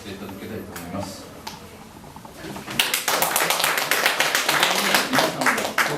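Audience applause breaks out at a lecture event, starting with a few scattered claps and swelling into dense, steady clapping from a room full of people, with a voice speaking early on.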